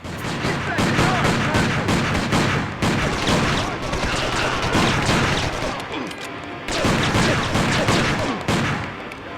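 Gunfire from a Beretta pistol in the game Driver: Parallel Lines, rapid dense shots and crashes blasting continuously with brief gaps, loud and close, with a voice talking underneath.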